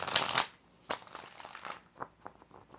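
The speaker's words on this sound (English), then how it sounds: "Five shuffles for Moon." Tarot cards are shuffled in a short burst of riffling and papery rustling, followed by a few softer taps and shuffles up close.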